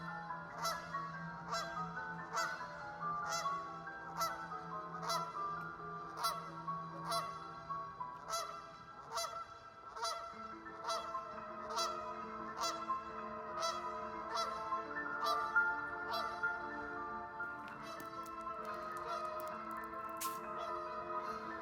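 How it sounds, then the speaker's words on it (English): A goose honks over and over at a steady, quick rhythm. The calls are fairly faint and slightly distant, repeating alone for about twenty seconds. "That goose is calling the strike"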